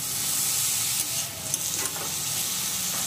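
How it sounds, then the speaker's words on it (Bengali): Bottle gourd with turmeric and salt sizzles in a pan, a steady close hiss with a couple of soft stirring scrapes in the middle, no voices. "লাউটাকে ভালো করে নেড়ে ঢাকনা দিয়ে দেব"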